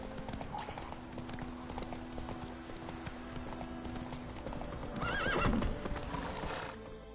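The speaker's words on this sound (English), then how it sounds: "Horse riding." Horse hooves clip-clop at a steady gallop in The Witcher 3, with a loud neigh near the end.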